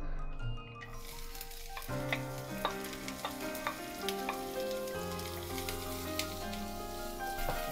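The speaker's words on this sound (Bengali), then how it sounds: "গরম তেলে দিয়ে দিলাম।" Vegetables and garlic hit hot oil in a pan for a Bangla mixed vegetable bhaji, giving a steady loud sizzle with clinking spoon taps and stirring scrapes scattered throughout, after a short quieter start.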